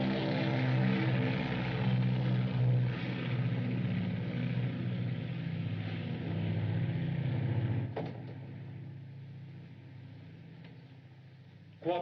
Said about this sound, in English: It's only the mail plane for London.